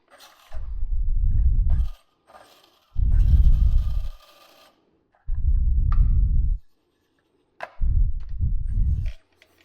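A Furitek Komodo brushless outrunner motor drives an SCX24 crawler at a slow crawl. Four short bursts of low, gritty whirring, each about a second and a half long, are heard up close with quiet gaps between them.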